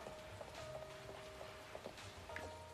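Rain pattering in the video game Neverness to Everness, a faint, soft, continuous patter of drops on surfaces with a few light ticks and tonal background hums beneath.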